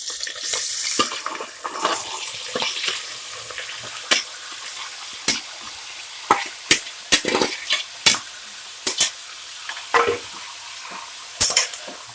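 Goat tripe (boti) frying in hot oil with onions in a pan, with a continuous loud sizzle and frequent sharp clacks and scrapes from stirring at irregular intervals, close up and with no talk.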